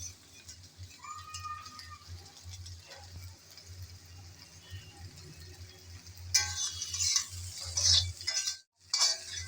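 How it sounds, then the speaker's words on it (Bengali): Pointed gourd is stirred and mixed in a pan, with soft scraping and clinks of a utensil over a low hum, and a brief louder sizzling burst near the end. "নেড়ে চেড়ে মিশিয়ে নিলাম।"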